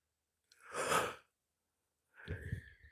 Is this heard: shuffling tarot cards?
no